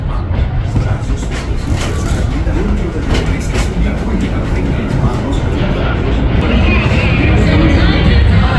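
Continuous rumbling and rattling of the Disneyland Railroad steam train in motion, loud and close, with faint clicking from the wheels and a rising hiss toward the end.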